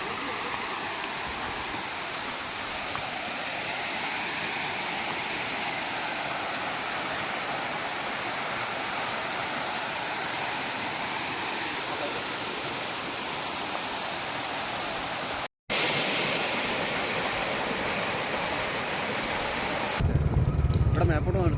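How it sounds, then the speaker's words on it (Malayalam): Small forest waterfall along the Achankovil route, a continuous loud broadband rushing of falling water, steady throughout with a brief dropout, then returning slightly louder. "ഇവിടെ നിന്ന് ഇങ്ങോട്ട് വരുമ്പം ഇവിടെ ഒരു വെള്ളച്ചാട്ടമുണ്ട്."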